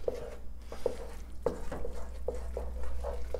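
Soft, rhythmic scraping and sticky stirring of a spoon through thick risotto as Parmigiano Reggiano cheese is worked in, repeated strokes about every half second, close and moderately quiet.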